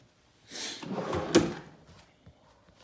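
A desk drawer slides on its runners in a quiet room, a rough scrape lasting about a second that ends in a sharper knock as it seats, heard close with no talking.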